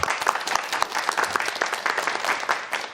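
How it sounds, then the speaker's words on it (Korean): An audience at a Korean lecture show on real estate applauds for an invited professor, with distinct, fairly close claps in an uneven, lively rhythm lasting a few seconds. "다시 한번 박수 부탁드리겠습니다."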